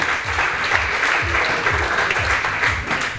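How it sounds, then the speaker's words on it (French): A crowd applauds steadily and loudly at a Rallye Terre du Diois press conference, dense clapping filling the whole stretch without a break. "Bien, on peut l'applaudir, Jean-Pierre Labonne et toute son équipe."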